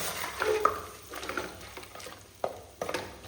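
Chicken being mixed with salt and lemon juice in a pan with oil, giving soft sizzling under a few stirring scrapes and clicks, close and fairly quiet.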